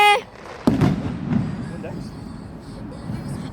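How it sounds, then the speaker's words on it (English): Fireworks go off outdoors on Bonfire Night, one sharp bang followed by a few fainter crackles and pops in the distance, with people talking nearby. "there's other fireworks going on at this bit"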